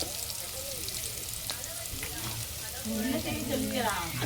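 Onions fry with masala in a pan for a fish curry, a constant sizzle with a few stirring clicks, and a voice speaking briefly toward the end.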